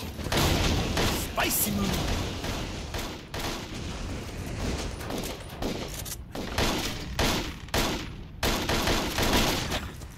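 Rapid bursts of gunfire and explosive booms from the video game Total Overdose, including grenade launcher blasts, crackling densely and almost continuously with repeated sharp impacts throughout.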